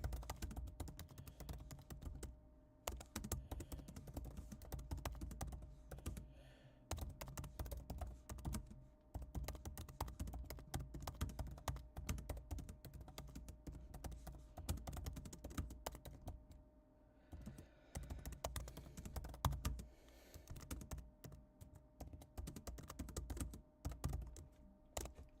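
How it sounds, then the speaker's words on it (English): Computer keyboard typing in quick, irregular clusters of faint clicks, continuing steadily for the whole stretch with short pauses between bursts. "let me just type something in the chat here."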